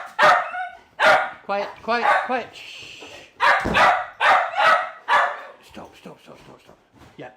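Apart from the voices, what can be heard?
dogs barking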